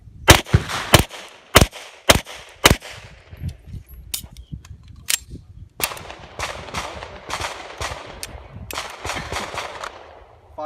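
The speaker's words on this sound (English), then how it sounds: "5 rounds, strong hand only." A Beretta 92 pistol fired strong hand only at an IDPA match: a quick string of loud, sharp, close reports, followed after a lull by more spaced shots ringing out over faint outdoor background.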